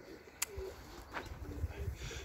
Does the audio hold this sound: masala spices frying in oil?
no